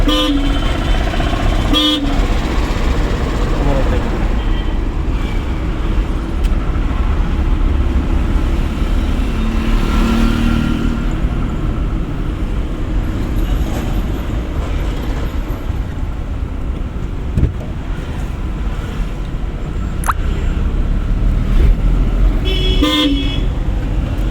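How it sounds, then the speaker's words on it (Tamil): A car horn honks a few times during a driving lesson, short loud toots spaced apart over the constant rumble of a moving vehicle and traffic. "ஹார்ன் அடிங்க"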